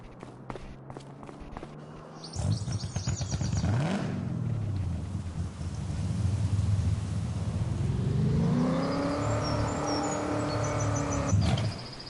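Engine of a forestry vehicle in Farming Simulator 25 revving up high, a loud sustained whine that climbs in pitch, dips and rises again, with footsteps and clunks before it.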